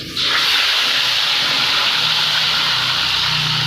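Tilapia is laid into hot oil in a pan and erupts at once into a loud, hissing sizzle that stays steady and close for several seconds, with no talk over it.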